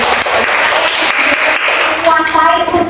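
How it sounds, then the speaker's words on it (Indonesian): A classroom audience gives a short burst of applause during a micro-teaching session, busy hand claps for about two seconds before a voice cuts in near the end. "Tepuk tangan"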